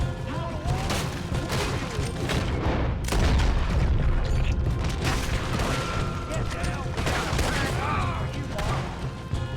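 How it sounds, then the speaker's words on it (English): Dense, loud gunfire and booming shots during a wagon shootout in Red Dead Redemption 2, rapid overlapping blasts filling the whole stretch with players' voices talking beneath. "Bro, I'm shooting the guys who are shooting at us."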